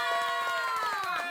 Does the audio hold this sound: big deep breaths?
no